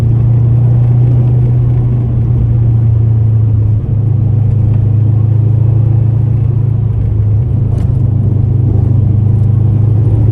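A Subaru WRX engine drones in a low, steady rumble as the car runs through the gears, with the pitch dropping briefly at two gear changes.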